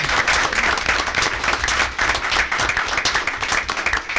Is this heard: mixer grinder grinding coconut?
no